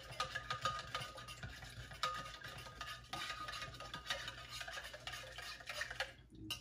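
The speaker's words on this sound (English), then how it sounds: "What we're gonna do is mix all this up now." A rum drink mixture with mint is stirred and mixed by hand, giving a steady, fairly faint scraping swirl with light clinks that continues throughout before cutting off near the end.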